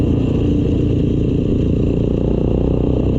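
A motorcycle engine fitted with a loud, non-stock exhaust runs steadily and close by, a thick continuous rumble with a constant level throughout.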